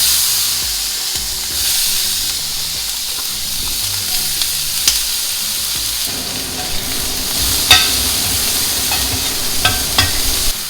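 Onion, tomato and green chilli fry in butter in a pan, a steady loud sizzle with scraping stirs and a few sharper crackles toward the end.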